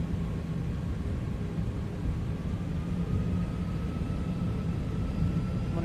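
Steady broadband roar of Toliss A321 airliner CFM engines in a flight simulator, a constant even drone with faint tonal whine, running unbroken without voices.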